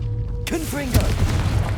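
A Confringo fire spell detonates with a booming burst in the Hogwarts Legacy video game, going off over a voice and continuing background game sound.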